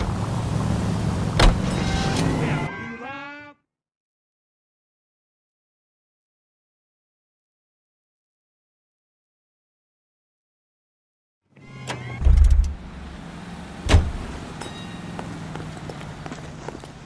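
Car driving in the L.A. Noire video game, a steady engine hum with mechanical clicks, cutting to silence for several seconds before resuming with a couple of louder thumps.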